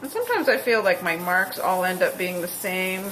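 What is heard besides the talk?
None of the usual background noises is heard.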